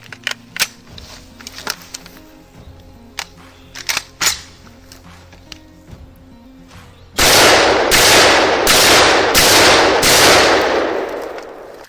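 Bursts of 7.62 mm rounds from a Kalashnikov rifle on an outdoor range, a rapid string of loud, sharp shots following scattered quieter clicks and handling knocks.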